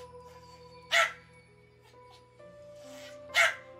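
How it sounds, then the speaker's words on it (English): Two sharp dog barks ring out about two and a half seconds apart over a low steady hum, fairly close and with no talking in between. "I was trying to turn down her barking,"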